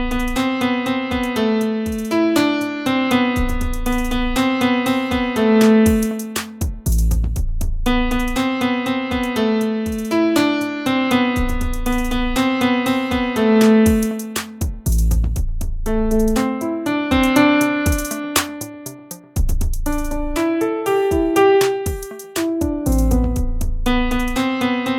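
An instrumental piano composition played back in music production software, with steady sustained chords and melodic lines running continuously at an even, full level throughout, with no voices.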